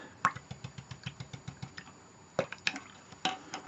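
Paintbrush rinsed in water during fabric painting, heard as a fast regular series of small wet taps and swishes with a few louder clinks, close and quiet with no talking.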